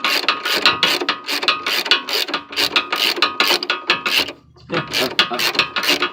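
A ratchet tightening bolts on a rear strut bar brace, giving rapid, close clicking strokes in quick repeated bursts with a brief pause before the ratcheting resumes.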